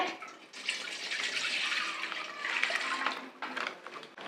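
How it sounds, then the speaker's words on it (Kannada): Milk poured into a cooking pot while making akki payasa, a rice pudding for Sankranthi: a steady, soft liquid splash and gurgle running continuously, moderately close, with no talking. "ಹಾಲು ಸೇರಿಸ್ತಾ ಇದ್ದೀನಿ ಒಂದು ಪಾತ್ರೆಗೆ"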